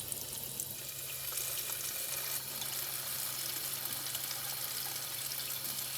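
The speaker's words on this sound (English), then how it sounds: "This is called a water bell and happens when a stream of water hits a curved surface and spreads out into a very thin sheet" A steady stream of water pouring onto a curved surface during washing up, spreading into a thin water-bell sheet; a continuous close hiss of running water, even and unbroken, with no voices.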